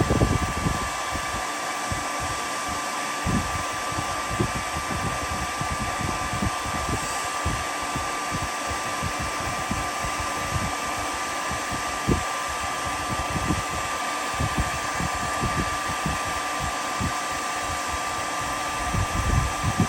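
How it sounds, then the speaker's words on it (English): A hair dryer blows on a freshly cleaned bearing from a Tungsten Fat Squid by R&L EDC, a loud, steady whirring whoosh that runs unbroken for about twenty seconds with faint crackling handling noise. "And here comes the hair dryer."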